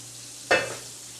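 Fish pieces dropped into hot oil for frying in a Bangladeshi fish recipe, a single sharp hiss that bursts up and quickly fades into a faint crackle, close by with no talk.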